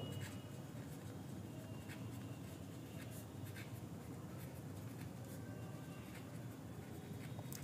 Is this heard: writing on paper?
yes